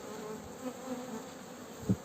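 Soft, steady honey bee buzzing at close range around a hive, with a small knock near the end.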